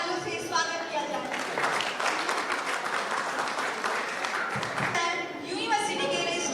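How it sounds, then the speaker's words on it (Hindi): Audience applause at a Capital University, Jharkhand PhD students' program, welcoming the chairman and vice chancellor; dense, steady clapping fills the room throughout, with a voice and crowd chatter layered over it. "मैं चाहूंगी कि आप कैपिटल यूनिवर्सिटी में chairman advocate Pawan Saini and vice chancellor sir को जोरदार तालियों से स्वागत किया जाए।"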